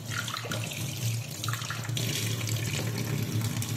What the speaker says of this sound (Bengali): তো তোমাদেরকে আমি এটা ধুয়ে দেখাচ্ছি বন্ধুরা, যে এটা কতটা পরিষ্কার হলো